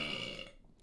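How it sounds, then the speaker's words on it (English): A short, loud burp after a quick meal, a single throaty belch that trails off in under a second. "Literally gonna be burping tonight"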